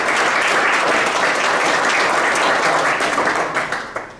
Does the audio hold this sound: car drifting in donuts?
no